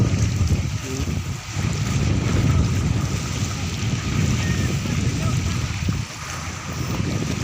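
A large ocean wave surges in near a boat with a broad, rushing roar mixed with gusty wind buffeting the microphone, continuous and fairly loud throughout.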